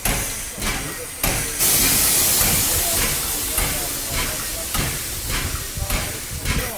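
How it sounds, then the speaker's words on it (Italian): Air pump on steam locomotive 740 278, used to fill the brake reservoirs, gives a loud, sustained hiss and chuffing pulses close by, with regular beats and people talking over it. "Pompa dell'aria che serve per i serbatoi, per i freni."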